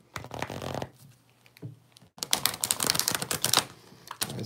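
A deck of Lightworker Oracle cards being shuffled up close, short riffling bursts and a pause followed by a longer, dense flurry of papery flicks and slaps.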